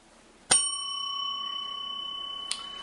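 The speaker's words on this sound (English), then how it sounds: "maybe I'll ring the bell and we'll move on to topic two" A single bright bell strike rings out clearly, its tone sustaining and slowly fading, then a second lighter tap lands near the end, in a quiet room during a podcast.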